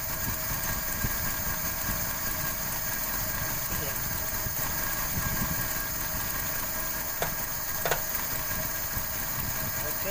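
A Toyota Kijang Grand engine idles roughly with an abnormal RPM, giving a steady mid-pitched rumble and faint knocking close by. It runs continuously, with occasional small clicks and no talk.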